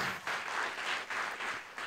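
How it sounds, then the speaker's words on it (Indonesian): A church congregation claps for God in rhythmic bursts of applause that swell and dip in a steady beat, moderately loud, with no voices rising above the clapping. "Tepuk tangan bagi Tuhan"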